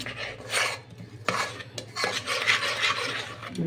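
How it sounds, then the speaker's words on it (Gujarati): A spoon stirs khaman dhokla batter briskly in a bowl, giving close, wet scraping and clinking against the sides in an uneven back-and-forth rhythm with a few sharper knocks, no talking. "ખૂબ હલાવી એકદમ કરી નાખવું"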